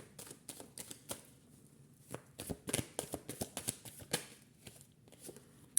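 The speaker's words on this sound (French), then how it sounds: "je vais reprendre 2 cartes pour l'autre" Tarot cards shuffled and drawn by hand in a quiet room: a run of crisp, close riffling and slapping card sounds in irregular bursts, with no talking.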